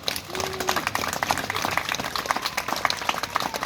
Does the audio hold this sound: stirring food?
no